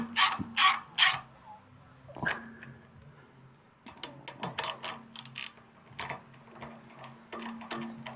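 Parts tightened on an old tractor under restoration: scattered metallic clicks, ratcheting taps and small clanks come in irregular bursts near the microphone, with a low steady hum in the background and a few quiet gaps between actions.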